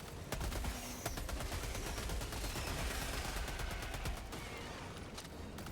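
Dense automatic gunfire in the video game Helldivers 2, rapid overlapping bursts with sharp individual shots, sustained and loud throughout with no talking.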